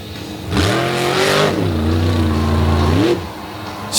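The big black Ram monster truck revs its engine hard at a beach monster truck show, a loud rising and falling roar that climbs, holds, then surges again before dropping off.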